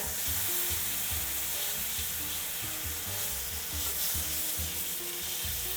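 Picanha steak frying in a hot pan while being flipped, a steady loud sizzle with bright crackle continuing throughout, close up with no talking.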